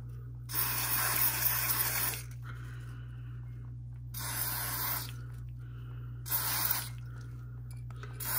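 Aerosol electrical contact cleaner sprayed onto a Singer 500J sewing machine motor in three long hissing bursts, each about one to two seconds, separated by pauses, over a steady low electrical hum.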